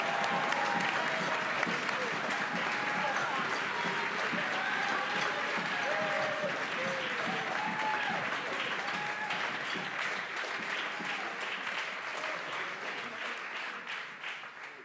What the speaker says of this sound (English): Let's give these individuals a warm round of applause.